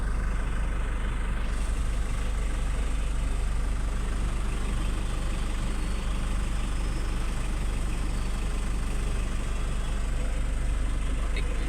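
A Chevrolet Trailblazer 2.0 automatic idles smoothly, with an even, unchanging engine hum and low rumble that holds steady throughout.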